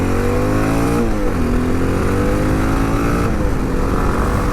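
A Honda XR650L dual sport motorcycle being ridden, its engine droning loud and steady throughout with rising and falling revs as the rider shifts and accelerates, heavy wind rush layered over the motor.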